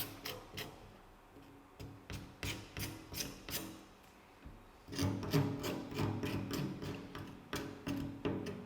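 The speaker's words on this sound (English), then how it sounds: "you just make an incision around the bone, then you scrub the meat" A knife scrapes meat and skin off a bone while preparing a fine-dining dish. Quiet, rhythmic rasping strokes repeat steadily, about two per second, with a brief pause in the middle before the scraping resumes more firmly.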